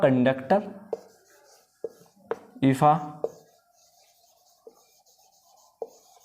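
Writing a physics definition on a classroom board: short scratchy strokes at irregular intervals, mostly alone in a quiet room, with a voice speaking briefly near the start.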